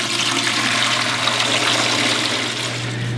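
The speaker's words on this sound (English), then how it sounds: "the water will drain out" Water gushing from the opened utility valve of a Fluval FX4/FX6 canister filter into a bucket, a loud, steady hissing splash with a low hum underneath.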